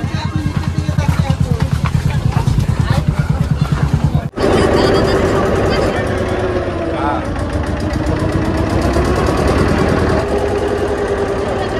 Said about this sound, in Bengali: লঞ্চ দাঁড়িয়ে আছে সামনে।